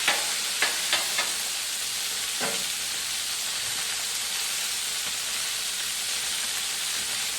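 Chicken wings sizzle on a grill set to low, a dense, even hiss close by that runs throughout, with a few faint clicks and knocks near the start.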